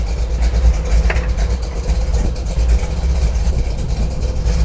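Jeep CJ5 engine running after a start, a loud, steady low rumble of idling close by, continuous with little variation.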